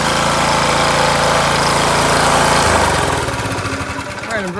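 A Honda GX200 small engine with a broken cam runs loud and close on a stand with worn feet, a steady rumbling drone that drops to a lower, rougher idle partway through.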